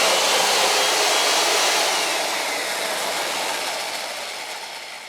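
An electric tree-cutting chainsaw, run without fuel and with oil on its chain, gives a loud, steady high whir close by that slowly fades toward the end, with no talk.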